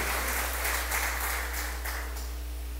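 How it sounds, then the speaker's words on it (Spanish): A church congregation applauds during a sermon, a steady wall of clapping from many hands with a low hum underneath, sustained and fairly close. "dar un aplauso al Señor"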